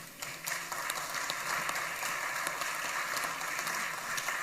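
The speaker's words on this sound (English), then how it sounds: "they all deserve a big round of applause" Audience applause at a public event in Accra, a soft, continuous patter of many hands heard from a distance, steady and even throughout without any voices.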